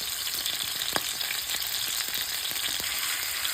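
Trimmed oxtails brown in a hot frying pan, a loud, even sizzle and crackle with a few soft pops and utensil clicks, close up and without speech.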